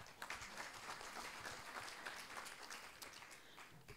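Audience applause at the opening ceremony of an international conference on the economic Francophonie, steady clapping held at a moderate, somewhat distant level for about four seconds.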